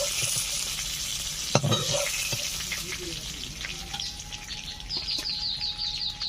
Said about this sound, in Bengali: বাদ বাকি এই মাছগুলোকে ভেজে নিচ্ছি।